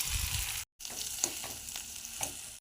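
Potatoes frying in hot oil with mustard seeds and spice paste in a wok, giving a loud, close, continuous sizzle with stirring scrapes and one brief silent gap near the start.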